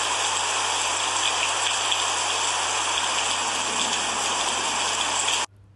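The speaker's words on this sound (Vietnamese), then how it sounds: "Đây là tiếng mưa đấy các con ạ." Rain falling as a dense, steady broadband hiss, close and loud and alone, cutting off abruptly just before the end.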